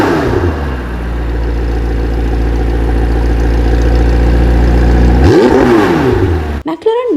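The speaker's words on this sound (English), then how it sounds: "packing this beast a 754 horsepower twin-turbo V8 with the ground-shaking power and sound" A McLaren 754-horsepower twin-turbo V8 sports car engine runs loud and steady at a deep idle, then swells in a brief rev near the end before cutting off abruptly.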